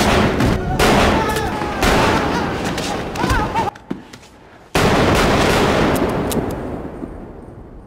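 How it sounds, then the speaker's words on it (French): Loud, rapid bursts of gunfire from a film scene, with sharp repeated shots, a short lull, then another heavy volley fading out; shouting voices are mixed in. "il tire un nombre de coups de feu beaucoup trop élevé"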